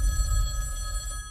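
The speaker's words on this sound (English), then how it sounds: "that phone over there is gonna ring." A telephone rings with a bright, sustained bell tone over a low rumbling background, heard briefly and fairly close.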